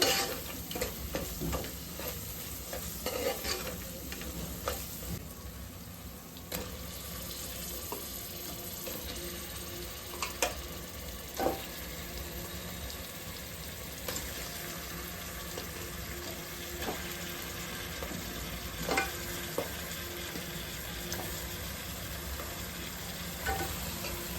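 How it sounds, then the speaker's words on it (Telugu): Goat head meat frying in a pan with masala paste, stirred with steady sizzling and scraping and occasional clinks, running continuously at moderate level with no voices. "రెండు మూడు నిమిషాలు లో ఫ్లేమ్లో మగ్గనిచ్చి తర్వాత తలకాయ కూర వేసుకోవాలి"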